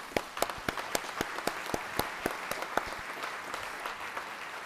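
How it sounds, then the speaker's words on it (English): Applause at a police service awards ceremony, thin and fairly faint, with distinct individual claps in an uneven rhythm, as if only a handful of people are clapping, and no talk over it. "Let's give them all a round of applause, please."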